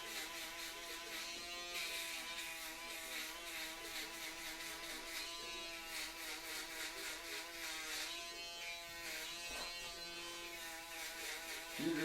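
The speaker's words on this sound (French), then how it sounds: "c'est quand même assez rapide de passer le shaver" An electric shaver buzzes steadily and close up as it is passed over a face freshly shaved with a straight razor, a continuous harmonic whine that holds even for about twelve seconds with slight pitch wavering.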